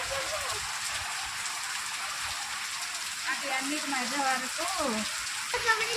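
Steady, dense hiss of heavy rain pouring down in a village, with a person talking quietly over it toward the end.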